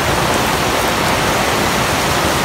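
Heavy rain pours down outdoors near a village market in Vietnam, making a dense, even hiss that stays loud and unbroken throughout, with no voices.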